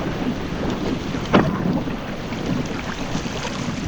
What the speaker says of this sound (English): Swirling winds, most of them right in our face.